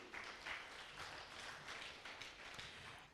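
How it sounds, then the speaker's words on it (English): An audience applauding Kangaru School at a regional school knockout competition: sustained clapping from many hands that sounds faint and distant, with rippling swells over about three seconds. "A round of applause, please,"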